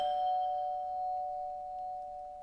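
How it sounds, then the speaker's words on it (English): A doorbell rings with a steady, clear tone that sustains and slowly fades over a couple of seconds. It is fairly close and heard alone. "I think that's the doorbell."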